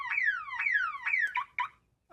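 A blue macaw wearing glasses mimics an alarm clock in a bedroom: three loud, close, repeating falling electronic sweeps, then two short chirping bursts before it goes quiet.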